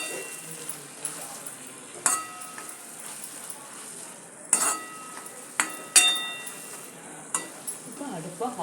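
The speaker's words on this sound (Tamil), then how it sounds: "இந்த தேங்காயும் போட்டு லைட்டாக ஒரு புரட்டிடுவோம்" Grated coconut is stirred into sautéed tomatoes in a pan for a rajma gravy, bringing a soft steady sizzle broken by several sharp clinks of a spoon against the pan at irregular intervals.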